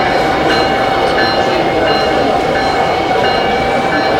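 A Bachmann HO-scale Via Rail model train runs along its track at a train show, giving a steady, close mechanical rumble and faint rolling clatter over a busy hall background.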